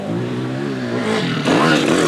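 A mini motocross bike's engine revs hard and close, a steady buzzing drone that jumps louder midway as the throttle opens further, with no talk over it.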